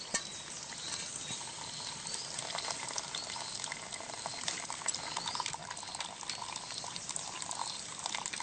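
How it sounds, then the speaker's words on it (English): Water boils hard in a canteen cup set over a blob of burning fuel at a cabin in the Brazilian bush, a steady, dense, close bubbling hiss that runs on without a break and with nobody talking. "Just one blob was enough to boil all that water, and it's still burning there."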